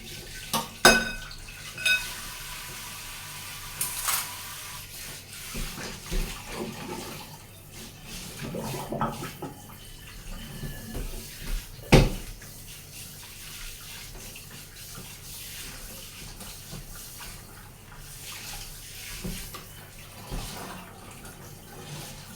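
Cups and dishes clink and clatter under running water in a kitchen, with scattered sharper knocks as they are washed and set down; no one speaks.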